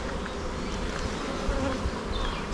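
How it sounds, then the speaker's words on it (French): Honey bees still inside a beehive box, a steady close buzzing hum with a few louder individual bees passing near, no talk. "Il y a encore des abeilles dedans"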